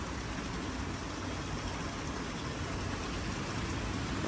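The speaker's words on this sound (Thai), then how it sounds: "ฝนตกแรงแรงวันนี้เพื่อนๆเอลย แรงคักแรงแน่" Heavy rain pours steadily outdoors at a plant and garden shop, a dense, loud, unbroken hiss that fills the whole stretch with no voices.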